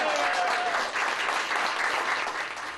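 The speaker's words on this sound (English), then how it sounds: "Frank was applauded for his outstanding work in our community" Sustained applause from a gathered crowd honouring a radio broadcaster's 30th year on air in Victoria, steady and moderately loud throughout with no voices over it.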